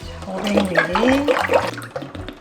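Water pours into a pot for Korean red bean porridge, a close, loud gushing splash lasting a couple of seconds with a rising bubbling tone, with a voice speaking over it.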